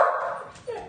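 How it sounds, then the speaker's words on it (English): A dog gives a short burst of barking indoors, loud and close, with a brief higher yip near the end. "I will pause until I can get her to stop barking."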